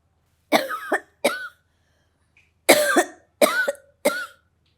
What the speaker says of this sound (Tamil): ஏன் இருமல் வந்துட்டே இருக்கு தியானம் பண்ணும்போது?